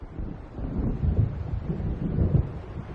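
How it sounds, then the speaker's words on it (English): Deep rolling thunder from an approaching storm over open water in the game Alan Wake Remastered, a continuous low rumble that swells in waves, steady and fairly loud with no speech. "It seems there's a storm coming."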